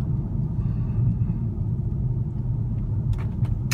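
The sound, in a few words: Mercedes-Benz E350 Cabriolet driving over road bumps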